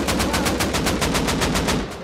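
An M2 heavy machine gun fires a sustained burst in the Rust console video game, about a dozen rapid, evenly spaced loud shots over two seconds with no voices.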